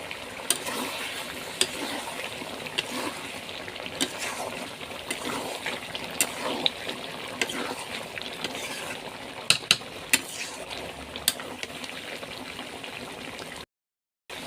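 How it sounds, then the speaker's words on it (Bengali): Chicken pieces sautéing in spice paste for biryani give a steady close sizzle, with occasional clicks and scrapes of stirring throughout, ending abruptly. "মাংসগুলো দিয়ে এখন আমি কষাবো।"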